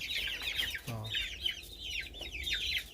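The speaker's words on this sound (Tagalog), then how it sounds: "Ito yung update ko sa inyo sa ating alagang Rhode Island Red." Rhode Island Red chickens cluck and chatter softly in a continuous flurry of short calls, with one low rising call standing out, fairly close and quiet.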